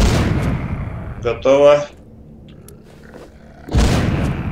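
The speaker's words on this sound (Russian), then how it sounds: "У меня есть эти гранаты еще." Grenade explosions in The Walking Zombie 2 zombie shooter game: loud low booms open and close the stretch, with a short harsh burst between, and a voice speaks briefly over them.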